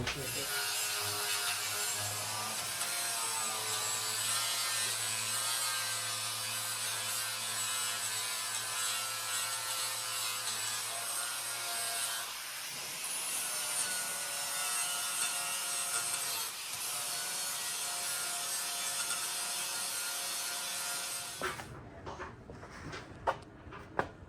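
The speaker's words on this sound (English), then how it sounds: "I would grind that down with a flapper" Flap disc on an angle grinder grinding down a weld on a 1968 VW Standard Beetle floor pan, a loud continuous abrasive whine for over twenty seconds before it winds down and stops.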